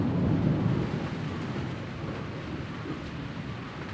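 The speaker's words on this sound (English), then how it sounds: "After the heavy rain, the whole forest is refreshed." Heavy rain pours down in a Hainan rainforest during the rainy season, a dense steady hiss close around, with a deep thunder rumble strongest at the start that fades into the downpour.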